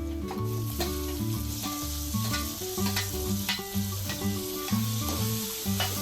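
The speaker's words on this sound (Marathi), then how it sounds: "टोमॅटो पण व्यवस्थित परतून घ्यायचा आहे." Onion and tomato frying for a Malvani crab curry, a steady sizzle with stirring scrapes, heard alongside background music and no speech.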